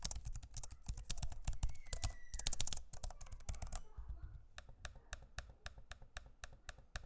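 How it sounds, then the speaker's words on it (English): Fingers type on an Alienware 16 Area 51 laptop's keyboard in dense, rapid clicking bursts, then move to slower, evenly spaced taps and clicks on the trackpad, close and quiet. "Here's a sample of me using both the keyboard and trackpad so you can hear for yourself what they sound like."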